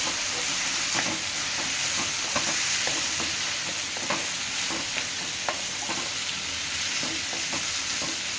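Bitter gourd pieces frying in oil in a pan, a loud continuous sizzle with scattered small pops and occasional stirring scrapes throughout.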